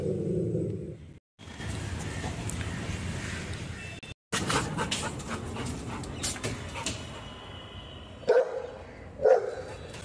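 A dog pants close by in quick, steady breaths, with a couple of sharp barks near the end.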